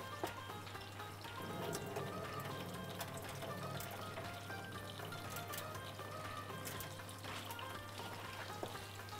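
Rice being drained of its soaking water before going into hot oil in a home kitchen, a steady close trickling and pouring of water with no talk over it, under a constant low electrical hum.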